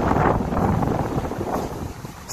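Wind blowing across a college campus in Jamaica, a steady broadband rush that buffets the microphone, loud and continuous throughout with gusty swells and no talk.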